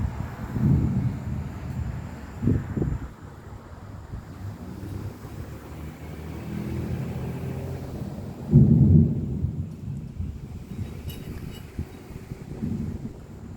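Severe summer thunderstorm in Orlando: deep rolling thunder rumbles low and heavy, with a louder crack-like swell midway, over steady rain and wind buffeting the microphone.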